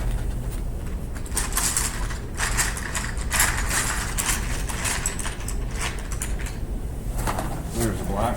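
A black drawing pencil being sharpened, a steady grinding, ratcheting scrape lasting several seconds with brief stops in between, recorded close by.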